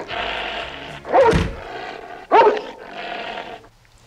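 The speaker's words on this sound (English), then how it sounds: "Good dog." A dog growls and snarls loudly and close, in a steady rumbling stretch broken by two harsher bursts, alone without talk.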